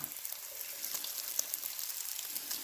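Long strips of bacon fry in a pan with a steady, fairly quiet hiss and fine crackling pops throughout, no one speaking.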